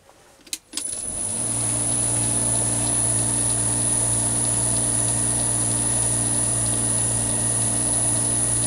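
A milling machine drives a slitting saw through a bar clamped in a vise vee to cut cross slots, spinning up after a brief clunk into a loud, steady, high-pitched whine with a humming undertone that holds throughout.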